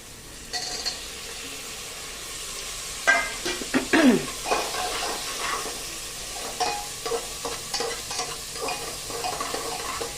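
Onion, potato and tomato sauté in a pan for Khandeshi masala khichdi, a moderate sizzle under repeated spatula stirring and scraping that grows busier midway, close by, with no voices.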